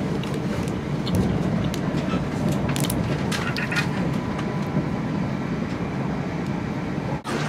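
A steady rumbling drone inside a moving train heading to Ashford, with faint clicks and rattles over the continuous low noise and a brief thump near the end.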